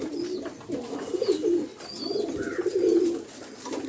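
A pigeon gives soft, throaty coos in several rolling bursts while held in the hand, close and clear, with faint chirps in the background and no talking.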